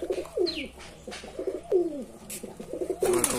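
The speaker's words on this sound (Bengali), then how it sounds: "আমার কবুতরের ডাক," Local Rajshahi Giribaz pigeons in a home loft coo repeatedly up close, giving low, rolling, throaty calls in a steady rhythm, with a faint higher chirp mixed in.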